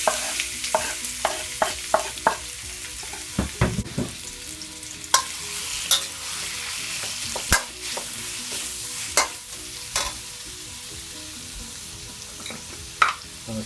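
Sliced onion fries in hot coconut oil in a pan. A constant sizzle runs underneath, and sharp scrapes and knocks of stirring come at an uneven pace, close and fairly loud.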